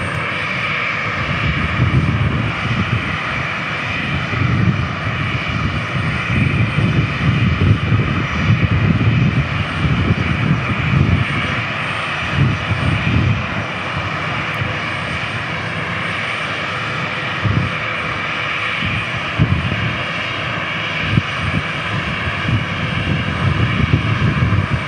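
Air National Guard F-16 fighter jets over Tucson International Airport, a loud, sustained jet roar that swells and fades in waves across the whole stretch, with no voices.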